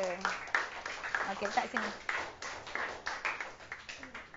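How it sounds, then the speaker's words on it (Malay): Students in a classroom clap for their classmates during a science lesson, an uneven patter of hands running throughout at moderate volume, with a teacher's voice briefly heard. "Bagi tepukan untuk kawan-kawan kita."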